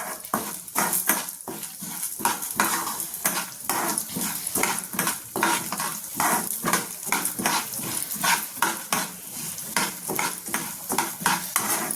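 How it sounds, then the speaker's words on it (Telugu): A spoon stirs urad dal and coriander seeds frying in a pan, giving loud, rhythmic scraping and rattling strokes close up, with a light sizzle underneath and no talk. "ఇవి కొంచెం లైట్గా బ్రౌన్ కలర్ వచ్చే వరకు కలపాలండి."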